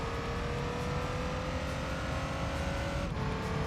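The V10 engine of the Courage GT race car in Gran Turismo 3 holds a loud, sustained high-pitched scream at steady revs, with a brief shift in pitch near the end.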